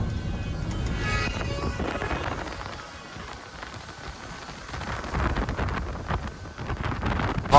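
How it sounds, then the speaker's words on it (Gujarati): Cold wind gusts roar across the microphone in a continuous, blustery rush that dips briefly and then swells again, with a patter like rain underneath. "હવે વાયરો ઠંડો આવે હોય આ બાજથી જો મસ્ત"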